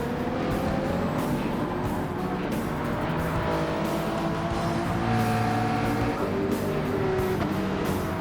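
Race car engines roar in a racing video game as a rival car passes, a loud sustained whine with shifting pitch tones and an overlapping second engine, continuous throughout.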